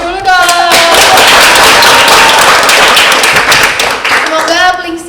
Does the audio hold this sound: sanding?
no